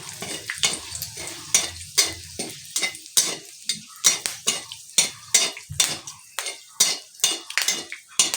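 Two dried red chillies hit hot oil in a pan for a Bengali mutton dish, giving a steady sizzle broken by repeated sharp scrapes and clinks of a spatula against metal, close and loud, with no talk.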